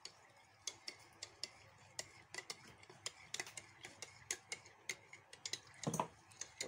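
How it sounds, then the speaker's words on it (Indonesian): A spoon stirs a powdered milk drink in a glass, giving a quiet, steady run of sharp metallic clinks against the glass rim, with a brief fuller scrape near the end. "Kita aduk."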